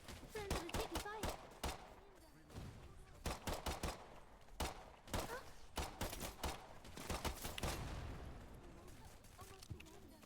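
Gunfire in the shooter game Wild Assault, with dense bursts of automatic fire and single sharp shots crackling throughout, fairly close, while a voice talks beneath.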